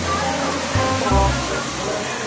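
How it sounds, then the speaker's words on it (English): A loud indoor waterfall inside a rainforest pyramid at Moody Gardens gives off a constant roaring rush of water. A brief low voice is heard under the noise. "Oh, waterfall."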